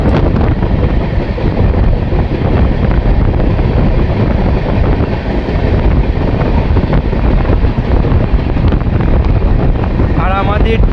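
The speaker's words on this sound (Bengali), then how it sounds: "ডিজেল লোকোমোটিভ ক্রমাগত ধোঁয়া ছেড়ে গর্জন করতে করতে আমাদের এগিয়ে নিয়ে যাচ্ছে" A diesel locomotive roars steadily as it hauls the Kolkata–Guwahati Garib Rath along a hilly monsoon route, heard from an open train door. It is a loud, unbroken rumble mixed with wind buffeting throughout.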